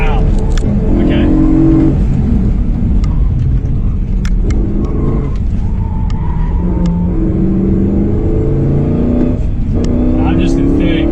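A car fitted with a Pedal Commander PC10-BT throttle controller accelerates in third gear, its engine note rising and falling steadily through the whole stretch while someone talks over it.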